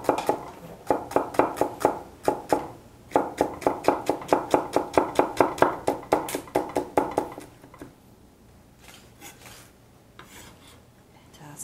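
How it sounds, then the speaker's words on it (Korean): A knife mincing celery and onion on a cutting board, fast rhythmic bursts of sharp chopping strikes in quick runs of a dozen or so, loud and close, then tapering into sparse, quieter knocks and scraping. "이제 채소를 다져보도록 하겠습니다."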